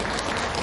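An audience in a Buddhist temple hall claps during a New Year prayer service sermon. The brief burst of applause is close and loud.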